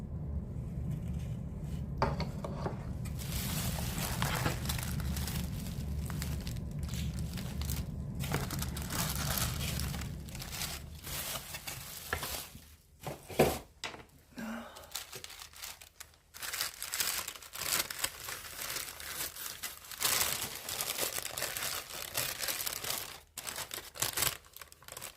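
Decorative patterned wrapping paper crinkles and rustles continuously as it is unwrapped from a nativity set, loud and close, with bursts of crumpling and tearing and no talking.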